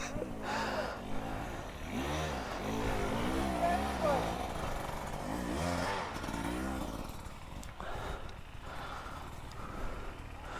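A 300 TPI two-stroke dirt bike, a KTM or Husqvarna, ridden with a revving engine that rises and falls in repeated bursts, close and loud throughout, with some speech mixed in.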